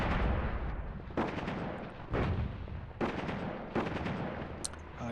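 Airstrike explosions in the WWII strategy game Attack at Dawn: North Africa, set at the First Battle of El Alamein: several heavy, booming blasts land one after another over a dense rumbling battle bed, each with a sharp crack and rolling tail.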